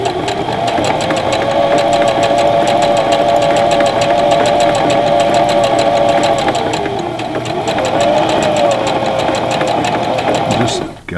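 A Singer Classic Heavy Duty sewing machine runs continuously while sewing a back-and-forth reinforced stitch, its rapid mechanical whir and clatter loud and close, with a brief dip in pace before it stops at the end.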